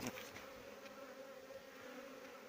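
Steady buzzing of many honey bees flying close by to a hive entrance at an apiary, a continuous drone with no voices.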